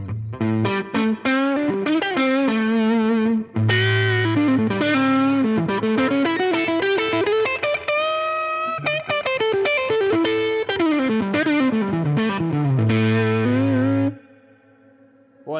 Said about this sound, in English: And so now check it out on the neck pickup of this guitar.